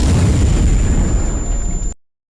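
A loud, sustained explosion roars through a scene of the anime Fate/strange Fake, a dense rumbling blast that fills the sound for about two seconds before cutting abruptly to silence.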